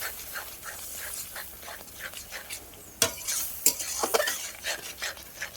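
A spoon scrapes and stirs fried poppy seeds with turmeric and chili powder in a pan, giving soft rhythmic stirring scrapes over a faint sizzle, with a few sharper clinks of utensil against the pan.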